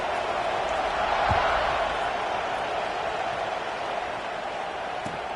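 A college football stadium crowd roars steadily at kickoff as the Mississippi State Bulldogs take the field, a dense, distant wash of cheering that swells briefly and then holds at a constant level.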